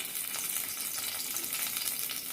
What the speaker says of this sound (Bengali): ঘি গরম হয়ে গেছে, এবার এর মধ্যে আমি দিয়ে দিচ্ছি তেজপাতা আর দিয়ে দেব ধুয়ে রাখা কাজু বাদাম আর কিশমিশ।